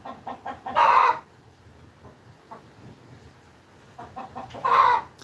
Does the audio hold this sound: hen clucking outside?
yes